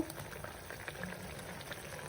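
Tamil fish curry (meen kuzhambu) base with ground pepper, garlic and curry leaves bubbles steadily in a pot before the fish goes in, a soft continuous simmering gurgle close by.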